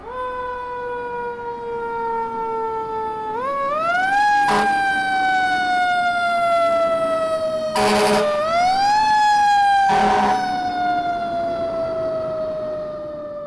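A fire engine siren wails in rising and falling sweeps, loud and close. Sharp air-horn blasts cut in several times over the steady wail.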